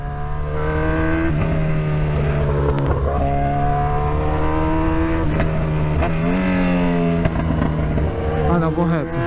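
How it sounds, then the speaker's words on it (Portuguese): A motorcycle engine revs hard at high speed on a city street, a loud, steady drone whose pitch climbs and dips several times, with voices talking over it. "quem é esse moleque que tá vindo de moto a milhão desse jeito?"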